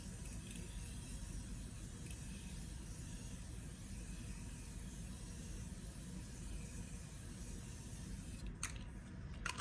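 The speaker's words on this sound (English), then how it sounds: "I'm just going to use the all trusted continuous Morphe spray to set everything in place." Morphe continuous setting spray is misted onto a face in a long, steady, quiet hiss that lasts several seconds, ending with a couple of faint clicks.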